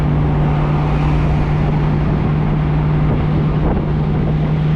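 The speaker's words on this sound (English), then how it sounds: "It isn't real true dual exhaust on this, so that's a lot of the sound we're getting." A 1967 Ford Mustang convertible with a 289 cubic inch V8 and automatic transmission runs on the road, its exhaust a steady, loud low rumble mixed with wind noise and no talk.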